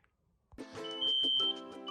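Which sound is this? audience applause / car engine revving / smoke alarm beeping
smoke alarm beeping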